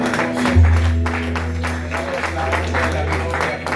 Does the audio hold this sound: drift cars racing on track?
no